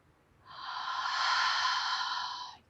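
A slow, gentle exhale during yoga breathing, a single smooth airy breath rising softly, holding steady for about two seconds, then fading, close and alone.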